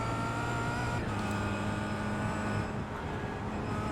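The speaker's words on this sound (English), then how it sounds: "Yep, you can hear me on and off the throttle." A Kia Optima engine in the iRacing sim on the Nordschleife, a steady droning hum that eases back partway through as the throttle comes off, with no voices.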